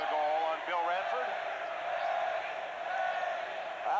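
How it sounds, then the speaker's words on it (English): Arena crowd at the 1991 NHL All-Star Skills Competition chanting a rhythmic name chant, a dense roar of many voices filling the hall, steady and loud throughout with swelling repeated pulses. "the crowd chanting"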